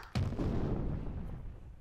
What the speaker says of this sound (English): Cannon fire bellowed all around us,